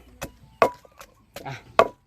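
Curry paste with sliced lemongrass being pounded coarsely in a mortar: a few sharp, separate thuds at an irregular pace, close and clear with no talking.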